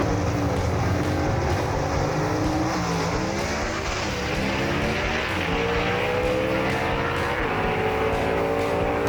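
Two big drag race cars, a 1958 Chevy Delray and a Tri-5 Chevy, roar steadily and loudly together, engines droning with shifting pitch throughout.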